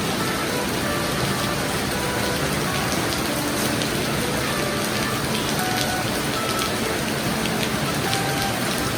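Steady rain falls outdoors beside a backyard guppy fish pond in Kerala, a dense, even hiss of drops on surfaces that continues unbroken and fairly loud throughout, with no voices.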